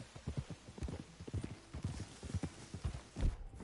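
A horse's hooves clip-clop in quick uneven beats across the ground in Red Dead Redemption 2, close and clear, with a faint whinny mixed into the game sound.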